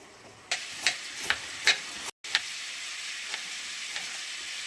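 A faint, steady sizzle of mushrooms frying in a pan runs throughout, punctuated by several sharp scraping stirs near the start, then quieter occasional clicks.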